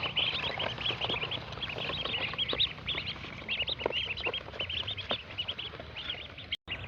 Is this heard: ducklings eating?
yes